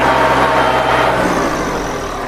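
A Kubota L4508DI diesel tractor runs with a loud straight exhaust, a steady close rumbling drone held without a break.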